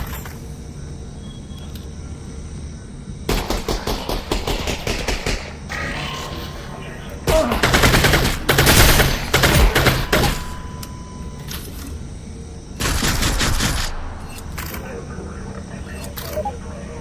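Bursts of video game gunfire in Half-Life: Alyx, several loud rapid volleys separated by pauses, close and dominant, with mechanical clatter between them.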